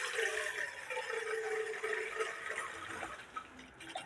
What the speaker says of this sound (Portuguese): coloca água.